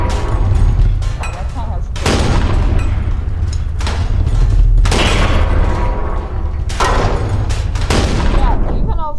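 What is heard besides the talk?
tank firing in People Playground video game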